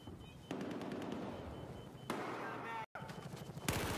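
Rapid magnum gunshots fire in the video game Battlefield 4 during a 5v5 scrim, with dense repeated blasts in several bursts, loud and close, a brief dropout in the middle, and player voice chat in the background.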